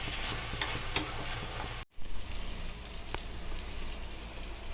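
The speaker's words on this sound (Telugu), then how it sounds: "ఇలా కలుపుకొని అంతే, పన్నీరు పునుకుల కర్రీ" A paneer punugulu curry is stirred in a pan, soft scraping and a constant sizzle, close and fairly quiet, with a brief break partway through.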